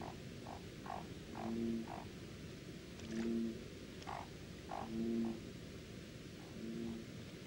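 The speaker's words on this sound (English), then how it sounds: "his croaks attract a female to the pond" Male leopard frog croaking at a pond, a series of repeated low pulsing croaks in regular bursts, moderately near over a steady background of other calling frogs and insects.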